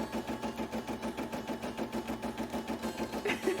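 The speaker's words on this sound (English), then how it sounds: "It's that my embroidery machine is chugging in time" An embroidery machine chugs in a steady, rapid rhythm, its needle pulsing evenly and close with a mechanical hum beneath.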